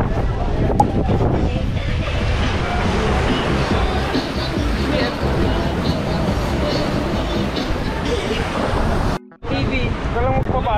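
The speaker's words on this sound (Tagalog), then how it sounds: "Ibabaw lang ang alon yan." Sea waves wash around a tour boat off Moalboal, Cebu, a loud continuous rush of surf with heavy wind buffeting the microphone and a brief dropout near the end; faint voices murmur in the background.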